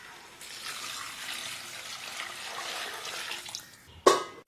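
Water poured into a pot of mutton biryani masala with cooked mutton, a steady splashing pour running for several seconds, then a brief louder clatter near the end.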